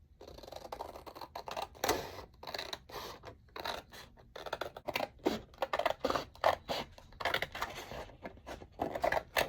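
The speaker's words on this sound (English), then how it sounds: "let's go ahead and cut them apart. And you can use your paper cutter or your scissors" Paper cards being cut apart with a paper cutter or scissors, a run of short, crisp cutting and scraping strokes in an uneven rhythm, close up with no talking.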